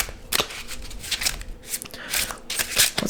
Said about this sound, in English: So I'm going to shuffle this deck